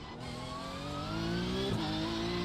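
Audi engine in a racing video game, a tuned Stage 2 car: a steady, rising engine drone that climbs in pitch as it accelerates, with a brief shift or skid blip partway through, loud and alone.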